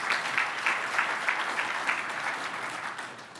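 An audience claps together at a spiritual talk: dense, steady applause throughout, loud and close, tapering off slightly at the end.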